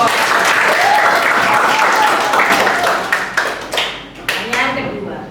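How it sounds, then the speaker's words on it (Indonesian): Students in a classroom break into close, lively applause that starts dense and then breaks into a few scattered, separate claps before stopping, with some voices mixed into the clapping. "Kita beri tepuk tangan dulu dong."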